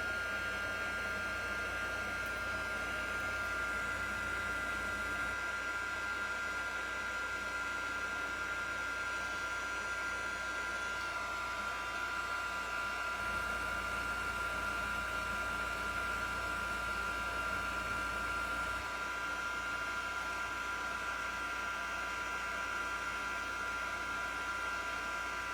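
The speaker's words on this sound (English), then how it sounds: "I'm just gonna leave my dryer here. Helps to dry the paste up pretty quick." A hair dryer blows steadily and uninterrupted to dry craft paste, a constant whooshing motor hum with a faint whine, close and unchanging throughout.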